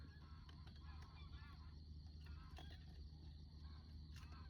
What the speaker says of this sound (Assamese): ইয়াত কিহে কান্দিছে শুনক শেৱালি হাঁহ চাগে